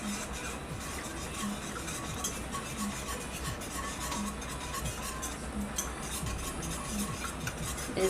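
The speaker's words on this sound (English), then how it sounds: "At this point, I would like to switch over to a whisk as well." A whisk stirs roux and liquid into a creamy sauce in a pot, giving steady, quiet scraping and swishing strokes with a faint regular clink. It continues evenly throughout, with no voices.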